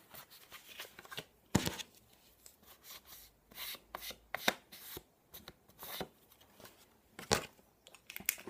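Paper pleats folded by hand for an ATC card pouch, a close, quiet series of crisp creasing rubs and sharp papery snaps in an irregular rhythm, without talking.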